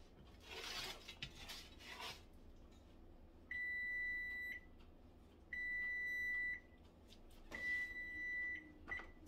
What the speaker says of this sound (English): I didn't turn the timer off from the pizza.